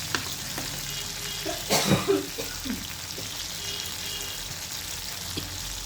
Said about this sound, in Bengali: এই দেখুন সমস্ত আলু মশলার সঙ্গে আমি কীরকমভাবে কষিয়ে নিচ্ছি